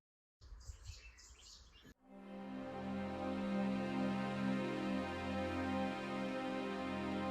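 A bird chirps near the doorway of a house in a brief, faint burst of quick tweets. A steady low hum then takes over and continues to the end.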